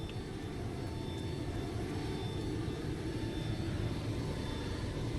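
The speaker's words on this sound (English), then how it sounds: "whirring sound you've been hearing is the APU" The auxiliary power unit of a Boeing 727 in Microsoft Flight Simulator 2024 gives off a steady, even whir with a thin high whine on top, continuous and moderately quiet with no talk.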